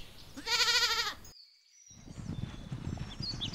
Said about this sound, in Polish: Mamy i kozę. Kozy mają śmieszną brodę i rogi.